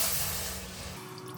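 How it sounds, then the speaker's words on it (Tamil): Water pours into a pan for cooking milk kozhukattai dumplings, with a close, breathy rushing hiss that gradually tapers off over a second or so. "இப்போது பேன் வச்சு வேகிற அளவுக்கு தண்ணி ஊற்றிக்கலாம்"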